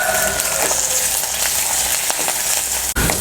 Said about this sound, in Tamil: மூணு பட்டை, 2 ஏலக்காய், 3 கிராம்பு எல்லாத்தையும் போட்டு நல்லா வறுக்கிறோம்.